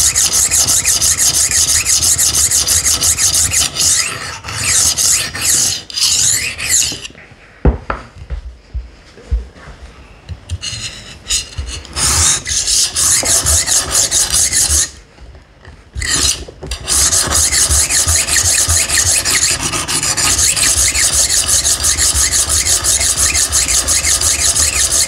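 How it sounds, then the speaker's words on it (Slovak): Steady, harsh rasping grind of a knife drawn through a cheap knockoff Horl-style rolling sharpener, loud and close, broken by a quieter stretch of scattered scraping midway. "Po brúsení s touto brúskou"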